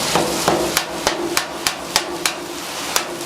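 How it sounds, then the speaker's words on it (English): A metal spatula chops through hash browns on a flat-top griddle: about a dozen sharp, regular scraping taps over a constant sizzle, close and fairly loud. "So I'm just gonna mark out with my spatula, the width of my spatula."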